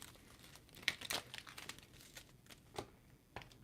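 Quiet, close crackling and riffling bursts of cards being shuffled, irregular flurries of papery snaps with brief pauses between them.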